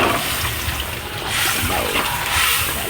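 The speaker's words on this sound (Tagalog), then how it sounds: "At nilagyan na rin siya ng tubig." Water poured into a pan of fish sarciado with soy sauce, sautéed onion, garlic and tomato, cooking over a wood fire; a steady, close splashing pour lasting a few seconds with no talk.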